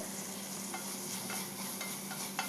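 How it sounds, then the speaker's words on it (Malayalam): Tomatoes and slit green chillies sautéing in a pan, a quiet steady sizzle with a few soft scrapes of stirring and no voices. "തക്കാളി ചേർത്ത് ഒന്ന് വഴറ്റി കൊടുക്കാം"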